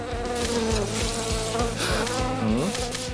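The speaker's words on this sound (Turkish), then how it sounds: "Aa, bir sinek mi?" A fly buzzes continuously and loudly close by, its droning whine wavering in pitch over a rhythmic background music track.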